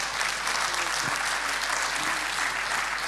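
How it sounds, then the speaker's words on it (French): Clapping from the audience at an awards ceremony, an even, continuous patter from many hands at moderate level, steady from start to finish. "Sous vos applaudissements"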